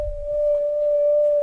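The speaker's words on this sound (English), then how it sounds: "Let me put this on whistle." A synthesizer set to its whistle voice holds a single pure sine tone, steady and loud from start to finish with no talking.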